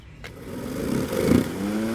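Greenworks 40V 16-inch battery lawn mower running at high RPM, a steady motor whine and blade hum that builds and surges through the middle, then holds level and close.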